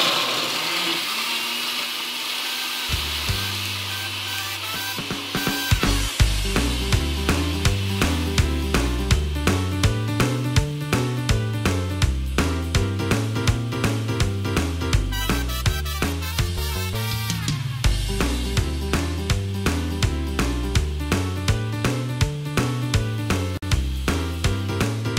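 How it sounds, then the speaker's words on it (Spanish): Kitchen blender whirring as it purées melon for horchata, starting with a low hum, then surging into a loud, steady grinding roar with rhythmic pulsing that runs for over twenty seconds, close and alone. "¿Le parece si bailamos mientras la licuamos para que usted no se fastidie con el ruido?"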